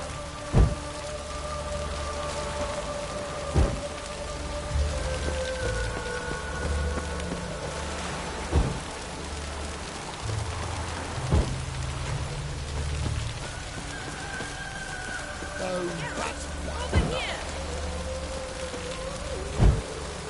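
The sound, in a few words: rain in video game The Witcher 3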